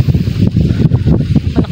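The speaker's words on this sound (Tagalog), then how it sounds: "malakas ang hangin." Strong wind buffets the microphone in rough, low gusts, with a steady rumble throughout and no voices.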